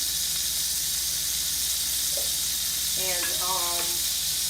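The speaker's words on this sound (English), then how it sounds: "we're going to let that butter sear" Butter searing in a pan over medium heat for garlic shrimp, a loud steady close sizzle with bright hiss, while a person briefly speaks over it.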